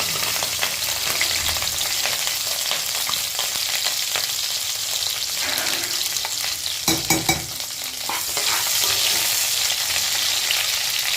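Bay leaves, dried red chillies and cardamom pods fry in hot oil for prawn biryani, a constant close sizzle with stirring scrapes and a brief clatter near the middle, no voices.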